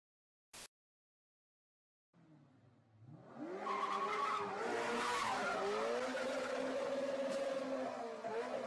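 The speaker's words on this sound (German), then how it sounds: "Wer denkt, dass Driften leicht ist, kann sich das hier genau ansehen." Sports car drifting, tires skidding and squealing loudly over a rising, revving engine that swells in after a near-silent start and holds for several seconds.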